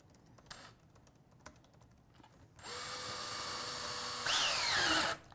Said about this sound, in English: we're just going to simply start drilling our 2 holes.